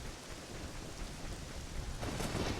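Rain pours over the village of Kakariko in the video game Ocarina of Time, a dense, steady hiss of falling water with low rumbling underneath, swelling slightly toward the end.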